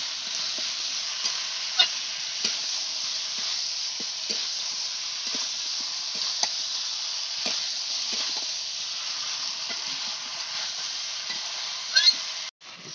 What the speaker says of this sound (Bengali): এখন চিকেনটা ঢেলে দিলাম।